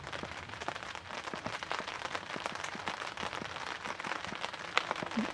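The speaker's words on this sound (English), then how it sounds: "I apologise if you can hear the pitter-patter of the rain on the top of the polytunnel" Rain patters steadily on the plastic roof of a polytunnel, close and dense taps and ticks throughout, fairly quiet overall with no talking.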